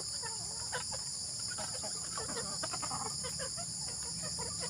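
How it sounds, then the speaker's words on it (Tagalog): Rhode Island and Black Australorp hens clucking in a backyard flock, scattered soft clucks and murmurs over a steady insect-like hiss, moderately close but quiet. "ang lahi pala ng manok natin dito Rhode Island at saka Black Astrol Black Astrolop yan"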